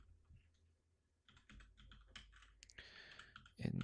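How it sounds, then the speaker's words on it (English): Keys clatter on a computer keyboard as a web address is typed, a quiet run of clicks that grows busier and louder toward the end, with no talk over it. "So I could type that in."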